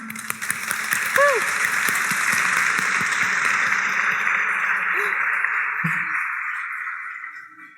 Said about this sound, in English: can we please have a hand of applause for them?